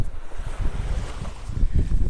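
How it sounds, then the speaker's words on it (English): Strong gusty east wind on Vanderbilt Beach in North Naples, Florida, buffets the microphone with a low roaring rush, along with a faint wash of surf in the background. "it's getting windy. Wind's coming out of the east and it's blowing."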